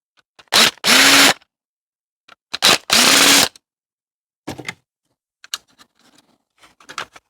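A power screwdriver spins screws out of an old bandit fruit machine being scrapped, giving two loud, close bursts of whirring with ratcheting revs, followed by quieter clicks, rattles and handling knocks.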